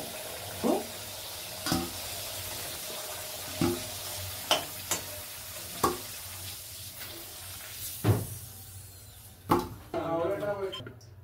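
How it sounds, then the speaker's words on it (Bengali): Chicken pieces frying in oil for a Bengali chicken curry, lal jhol, make a steady background sizzle, punctuated by periodic clacks of a spatula against the pan and occasional brief talk. "ভালো করে ফ্রাই করে এটা আমরা তুলে নেব।"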